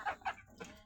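A native desi rooster clucks in two quick, close bursts, followed by a softer third call, all within under a second.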